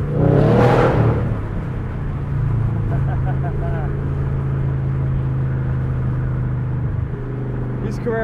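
Modified 2017 Chevrolet Camaro SS convertible cruising at highway speed, a steady low engine drone and road rumble throughout, with someone talking over it.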